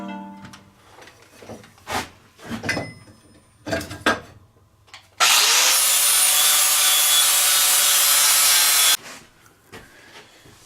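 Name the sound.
flap wheel grinding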